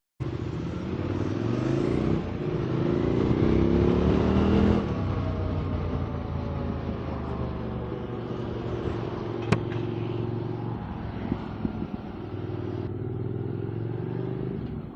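A QJ SVT 650X motorcycle fitted with new YSS shocks is ridden, its engine a steady close rumble that rises and falls with throttle, a strong rev early on, then settling into cruising with small clatters and bumps.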